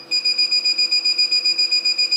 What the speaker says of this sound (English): Right now the only one that's beeping is on my panel is number 8.